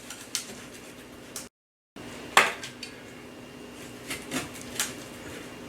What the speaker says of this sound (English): So now I'm going to cut the fish. There's a backbone here. I just use my cleaver.